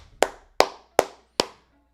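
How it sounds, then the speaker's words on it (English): Four sharp, evenly spaced hand claps ring out alone at close range, each decaying quickly, offered in tribute to college football running back Ashton Jeanty. "let's clap it up for him."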